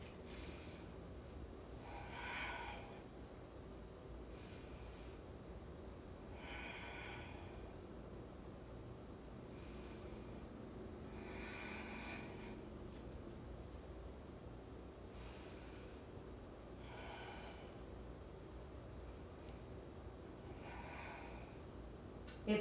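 Slow, deep breaths in and out during a yoga pose, faint and even, repeating about every four to five seconds over a steady hiss of room noise.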